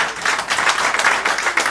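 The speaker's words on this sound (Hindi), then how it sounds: "इसलिए मैं ताली मारता हूं" A crowd claps in sustained applause at a human rights awareness training programme, a dense steady patter of many hands, fairly close and continuous, with no pauses.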